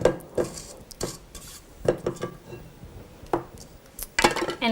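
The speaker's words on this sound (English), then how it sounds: "So I'm going to do one more scrape around." Spatula scraping and knocking around a mixing bowl of light, fluffy cake batter, a few close, distinct scrapes and taps with quiet pauses between.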